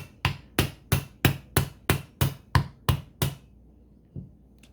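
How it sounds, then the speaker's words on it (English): About ten evenly spaced hammer taps land on a Holley 650 CFM double-pumper carburetor, crisp and close, then a pause and one last softer knock. "Don't smack your carburetor that hard."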